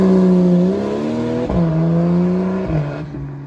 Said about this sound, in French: deux doubles sorties d'échappement avec PSE lui offrant une sonorité exceptionnelle